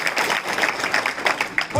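An audience claps continuously at a gathering of Hindu saints, a dense, steady patter of hands over short spans with a voice speaking over it.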